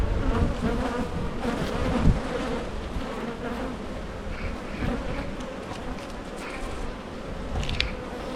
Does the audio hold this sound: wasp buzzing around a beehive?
yes